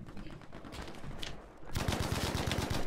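Gold Bren light machine gun firing in Battlefield 5 multiplayer: after a quieter start with scattered game noise, a loud, sustained burst of rapid, evenly spaced automatic shots fills the last second or so.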